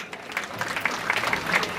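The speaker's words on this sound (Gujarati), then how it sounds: "તાળીઓ પાડતો જોરદાર" An audience at a family reunion gathering claps loudly and energetically, a dense burst of hand claps close by that keeps going throughout, with no speech over it.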